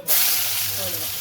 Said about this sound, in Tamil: இது எல்லாத்தையும் நல்லா ஆயில் அதாவது லோ ஃப்ளேமில் நல்லா ஃப்ரை பண்ணணும்